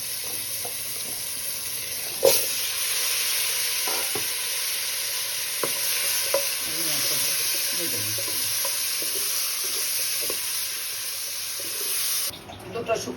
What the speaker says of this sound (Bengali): ভাজবো তেলের মধ্যে আলাদাভাবে ভেজে